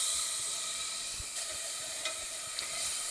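Butter and diced onions sizzle in a hot pot with a steady hiss, broken by a few faint pops and crackles.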